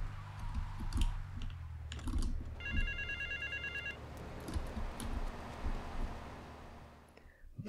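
A payphone rings at the docks in a GTA video game, a short electronic ringing burst amid game ambience, mouse and keyboard clicks and soft background sounds.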